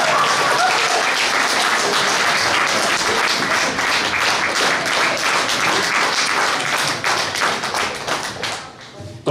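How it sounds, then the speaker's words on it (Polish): Audience applause at a village Women's Day show in Zadąbrowie, a dense, loud burst of clapping from a crowd that holds steady for several seconds before tapering off near the end. "Brawa!"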